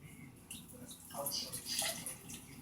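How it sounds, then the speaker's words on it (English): Milk poured into a blender jar for a banana and peanut butter shake, a soft, faint liquid splash and trickle heard close by under quiet background speech. "You're gonna pour in your milk."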